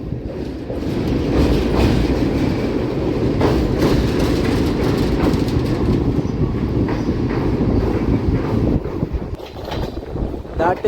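MEMU passenger train crossing the Pandameru river bridge near Anantapur, heard from inside the carriage as a loud, continuous rumble with rhythmic wheel clatter and wind buffeting throughout.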